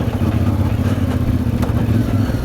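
A CFMOTO MT450 motorcycle rides along at low speed, its engine droning steadily and close as it shifts up from first into second and pulls just off the throttle stop, with light clatter on top.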